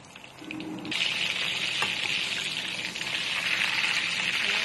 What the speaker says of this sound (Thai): ก็กลับด้านได้เลย บ่อยๆได้เลยค่อยๆทอดไปเลยนะ